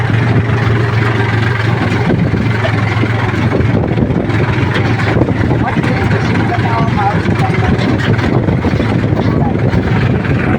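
A tractor engine runs on a farm while bottle gourds are loaded, giving a steady, loud, low droning chug throughout. Voices are faintly mixed in.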